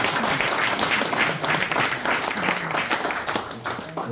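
Sustained applause from an audience at a Korean Won Buddhist dharma talk and training gathering, dense and steady throughout with a faint voice underneath.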